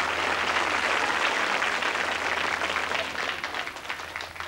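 Audience applause after a magic trick on a 1980 Sooty children's show, a steady patter of many hands clapping that holds throughout and tapers slightly at the end.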